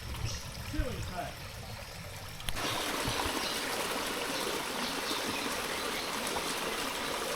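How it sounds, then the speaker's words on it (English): A waterfall pouring into a creek, its steady broadband rush switching on loud and close after a quieter stretch of trickling water, then continuing evenly to the end. "So we found a waterfall."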